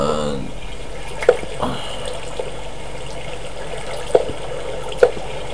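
Water flows steadily in a Minecraft modpack world, a continuous rushing wash with a few sharp game clicks or pops standing out, fairly loud and with no talk over it.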